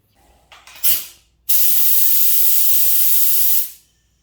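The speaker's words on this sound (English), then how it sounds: "We're ready to spray." Spray gun laying down 2K matte clearcoat on a car in F8 Green, with a few short bursts first, then one steady, loud, continuous hiss for about two seconds that cuts off cleanly.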